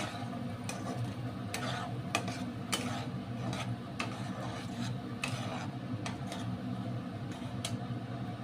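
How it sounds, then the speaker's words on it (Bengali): Ground spice paste fries and gets stirred in a pan for a Bengal-style taro and cauliflower dish, giving a steady low sizzle with repeated soft scraping strokes of the spoon at an irregular rhythm, close up with no talk. "এবার ভালো করে নাড়িয়ে চাড়িয়ে নেব, মশলাটা ভাজা হোক ভালো করে।"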